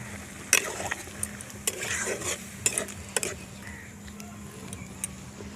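Chicken ghugni with peas simmers and sizzles in a pan as water is added, with a series of sharp scraping stir strokes of a spoon against the pot over a steady low bubbling, fairly close.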